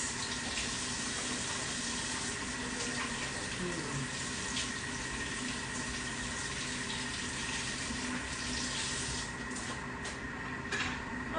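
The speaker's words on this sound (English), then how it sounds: "Wash my hands." Hands are washed under a running kitchen tap, a steady continuous rush of water close by that lasts throughout with slight splashing changes.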